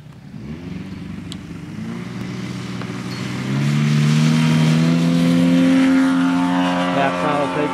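A Yamaha TW200 motorcycle with a test carburetor pulls away at half throttle. The single-cylinder engine note climbs steadily and grows louder, then holds a strong, rising drone near the end.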